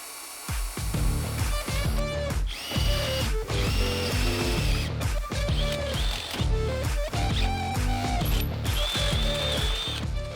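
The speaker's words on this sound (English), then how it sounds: "we're gonna go ahead and put a pilot hole in first and then drill it to size" A drill grinds through a Jeep Wrangler Rubicon's rear bumper in uneven bursts, drilling pilot and bolt holes, with clattering, ratcheting mechanical noise and pitch shifts as it bites, loud and close.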